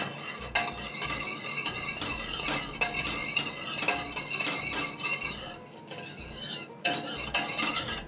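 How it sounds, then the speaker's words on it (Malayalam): Mango pieces sautéed in ghee for an Onam mango payasam, stirred steadily in a pan with repeated scraping and clinking of a utensil against metal over a soft sizzle, close and continuous with no talking. "ആദ്യം തന്നെ മാമ്പഴം നമുക്കൊന്ന് വഴറ്റിയെടുക്കണം."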